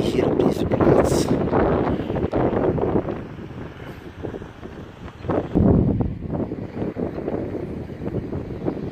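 Strong wind buffets the microphone at the Terneuzen marina, a loud rushing roar that surges in gusts, briefly easing midway before rising again, with a voice faintly speaking underneath.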